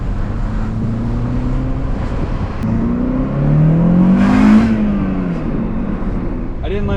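A manual-transmission car driving along a bumpy road, its engine drone rising and falling through gear changes, with a louder surge mid-clip and steady road rumble throughout.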